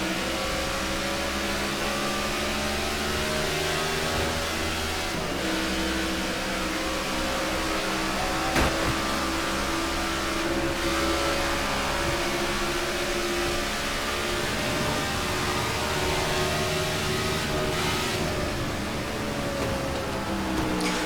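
Race car engines at Charlotte Motor Speedway during the All-Star race in NASCAR '15, a sustained droning roar of several engines with pitch shifts as they slow and rev back up, steady and moderately loud.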